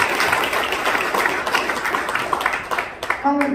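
An audience applauds at a political party regional launch ceremony in South Korea, clapping under an announcer's voice calling out names.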